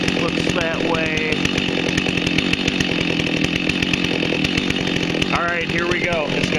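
A chainsaw runs steadily and loud throughout, its engine drone continuous with rapid rhythmic pulsing, while people talk over it.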